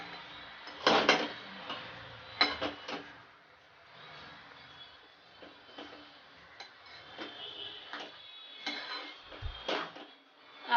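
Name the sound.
sautéing grated carrot in ghee, stirred gently in pan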